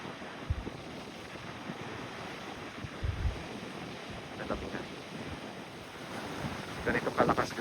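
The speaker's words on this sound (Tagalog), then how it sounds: "Ganito kalakas yung mga alon dito." Strong ocean waves surging and breaking on Aruba's rugged north shore, a continuous rushing roar under heavy wind buffeting the microphone, with louder surges near the end and no talk.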